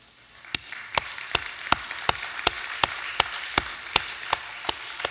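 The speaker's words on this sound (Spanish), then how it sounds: "¿Puedo pedir un aplauso para cada mamá en la iglesia hoy?" Sparse, evenly spaced claps ring out in a church congregation over a soft wash of background noise, about a dozen sharp hits spread across the span, applause offered for the mothers.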